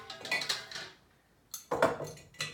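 A broth pot is rinsed out in a home kitchen, with metal clatters and knocks of the pot and utensils in two short bursts separated by a quiet pause, close and moderately loud.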